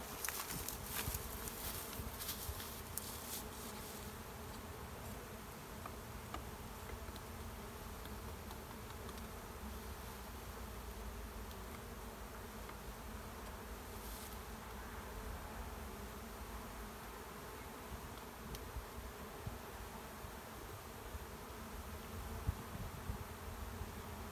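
Bees from a survivor beehive hum steadily in a dense, continuous drone throughout, close and fairly even in level, with no talking.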